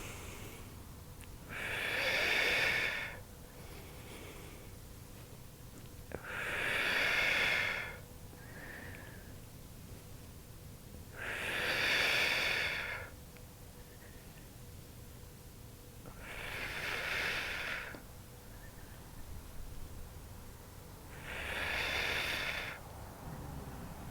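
Slow, deep exercise breaths during a Pilates core-strength workout for back pain prevention, five long airy exhales spaced evenly about every five seconds, close and fairly loud with quiet pauses between.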